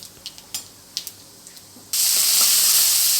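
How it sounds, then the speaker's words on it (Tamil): Scattered crackles and pops give way to a loud, sustained sizzle as mustard seeds and urad dal hit hot oil, close up. "நம்ம தாளிக்கிறதுக்கு கொஞ்சோண்டு எண்ணெய் ஊற்றி கடுகு உளுந்த பருப்பு தாளிச்சுக்கிறோம்."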